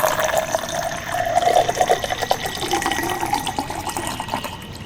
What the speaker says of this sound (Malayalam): തണുത്ത നാരങ്ങ വെള്ളം ഒഴിച്ചു.